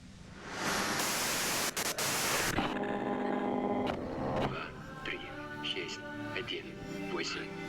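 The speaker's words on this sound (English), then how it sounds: "If you've got something really important to say, you can do it through the white noise." Harsh broadband white-noise static from the game Disco Elysium, loud and steady for a few seconds before cutting into a voice talking over lingering buzz.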